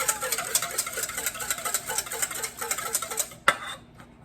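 Cake batter for a non-dairy chocolate cake being mixed, likely with an electric mixer, a steady rapid whirring and rattling for several seconds before a clack as it stops, close by.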